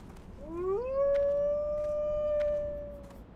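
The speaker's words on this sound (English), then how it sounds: "And that's me howling." A player character in World of Warcraft Classic TBC lets out a single long, rising howl that holds steady and then fades, clear above quiet background game sound.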